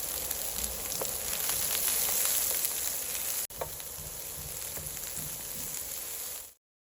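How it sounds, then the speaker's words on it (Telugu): Chopped onion sizzles in a pan of hot oil for perugu pachadi, a steady dense crackle running throughout with a brief dip midway, then cutting off abruptly at the end. "ఉల్లిపాయలు చూసారు కదండి, బాగా వేగింది."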